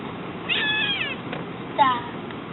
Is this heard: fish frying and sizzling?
no